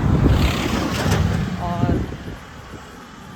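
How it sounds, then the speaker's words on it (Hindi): Wind rushes across the microphone outdoors on a road trip from Rishikesh, a loud rumbling buffet strongest at first and easing later, with a person speaking briefly over it. "हवा चल रही है"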